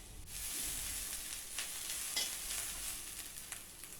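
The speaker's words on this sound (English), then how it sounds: "1/4 cup of julienne cabbage and 1/4 cup of finely chopped capsicum. Stir fry this for 2 to 3 minutes." Julienne cabbage and chopped capsicum stir-fry for Schezwan fried rice with a soft, steady sizzle and faint scraping stirs, alone with no talk.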